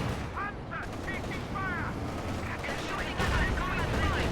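Cannon fire striking a Panzer tank during a Company of Heroes 2 match, a steady run of booming shots and impacts with whistling overhead, all within dense battlefield noise.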